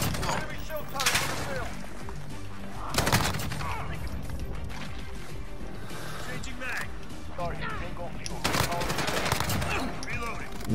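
Rapid AUG rifle hip fire in the Modern Warfare video game, dense bursts of gunshots repeating over continuous game noise, with people talking throughout.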